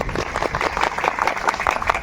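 Applause from an audience at an industry expo, a dense, steady burst of clapping that carries at an even level for about two seconds.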